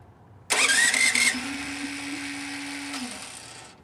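A Champion 200917 generator, started by remote during an ice storm with a 1500-watt hair dryer load, cranks briefly then fires into a steady mid-pitched engine hum that fades slightly near the end.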